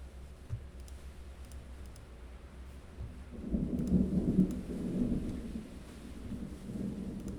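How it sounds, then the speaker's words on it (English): Thunder during a thunderstorm, heard from indoors through windows: a deep rolling rumble swells midway and fades slowly, over a low background of rain and room noise. "This thunder sounds really different."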